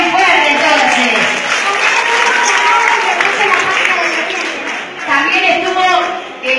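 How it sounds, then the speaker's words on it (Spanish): A studio audience at a Spanish-language television show applauds loudly and steadily for several seconds, a dense continuous wash of clapping, with a host's voice talking over it. "¡El aplauso bien fuerte entonces!"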